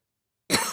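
A single close, sharp cough bursts out of silence and trails off briefly.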